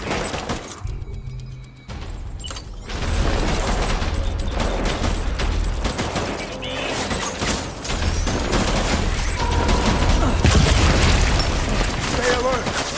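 Gunfire and explosions in the video game Death Stranding, with heavy booms and rapid bursts of shots filling a loud, continuous battle mix while voices call out in the middle of it.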